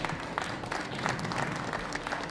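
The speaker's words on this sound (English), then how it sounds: "So let's give them a warm round of applause" A conference audience gives a warm burst of applause as panelists come on stage for a blockchain business panel, dense and continuous clapping across a short stretch.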